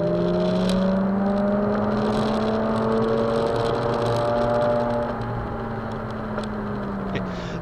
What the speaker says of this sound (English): Get the sound of a pack of about six RX-8s accelerating up the hill out of the first corner at Brands Hatch together.